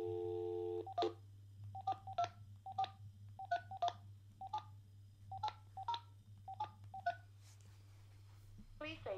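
A telephone plays a brief dial tone, then a string of about a dozen short dialing beeps at an uneven pace over a steady low hum, ending with a faint click.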